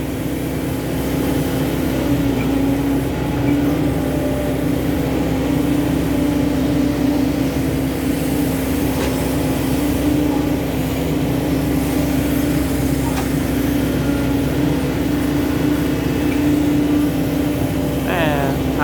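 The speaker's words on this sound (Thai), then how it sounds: "ท่านผู้ชมมาฟังเสียงเครื่องเสียงปั๊มนะครับ เครื่องอีซูซูปั๊ม K74 นะครับ" An Isuzu K74 diesel pump engine on a SANY SY135C excavator runs at a steady idle, a continuous low hum with a mechanical drone holding level throughout.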